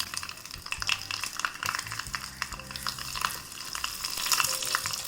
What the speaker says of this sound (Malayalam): എണ്ണ ചൂടാകുമ്പോഴേക്ക് കടുകിട്ട് പൊട്ടിച്ചു കൊടുക്കാം. കടുക് പൊട്ടി വരുമ്പോൾ ഞാനിവിടെ 3 വറ്റൽമുളക് എടുത്തിട്ടുണ്ട്.